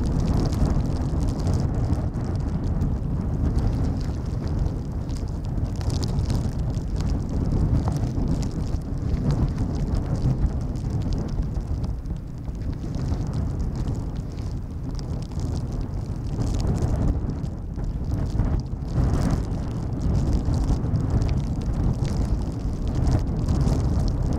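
Strong wind buffets a microphone beside Schiphol Airport's Polderbaan runway in stormy weather, a loud continuous rumble with gusty surges and no voices.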